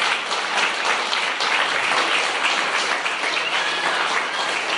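A church congregation breaks into sustained applause during a Spanish-language sermon, many hands clapping in a full, even roar that stays steady from start to finish.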